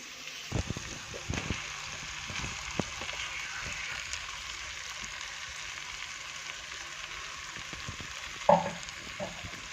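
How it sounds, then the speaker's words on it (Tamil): Ground mint masala sautés in a pan for mint rice, giving a steady soft sizzle with scattered small crackles and a louder scrape of stirring near the end, no voices. "இந்த அளவுக்கு மசாலா நல்லா வதக்கோங்க"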